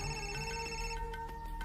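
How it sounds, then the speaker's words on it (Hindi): A phone ringtone sounds for an incoming call, a steady, bright melodic tone that plays on without pause and with no voices over it. "ये शेखर फोन कर रहा है"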